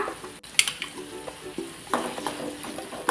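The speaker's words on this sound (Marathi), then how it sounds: "ते छान असे परतून घेऊया आपण त्याचबरोबर त्यामध्ये एक अर्धा कट केलेला टोमॅटो पण टाकूया" Onion and tomato sautéing in a pan for Maharashtrian sandge bhaji, with a soft steady sizzle and occasional scraping stir strokes, close and moderate in level, no talk.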